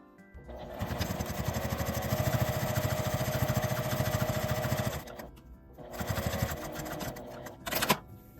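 A sewing machine stitches the edge of a makeup bag in a steady, fast mechanical run of about four seconds, pauses, then runs again in shorter bursts, close and loud with no talk.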